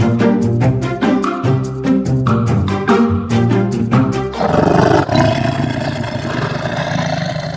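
A tiger roar sound effect in a children's rhyme album bursts in as a loud, rough, sustained growl, following a stretch of bright plucked music.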